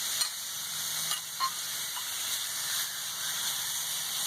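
A steak sizzles in a pan with a steady, hissing fry that runs the whole time. A few faint clicks and taps come through, and no one speaks.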